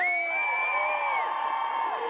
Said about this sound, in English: Let's give it a round of applause for a pro-life man.